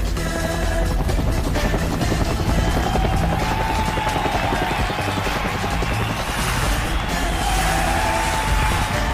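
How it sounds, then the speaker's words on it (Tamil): Continuous rotor-like engine drone with a steady rumble, loud and unbroken throughout, as military helicopters circle overhead. "இந்திய விமானப்படையின் போர் விமானங்களும் ராணுவ ஹெலிகாப்டர்களும் வட்டமிடத் தொடங்கியுள்ளன"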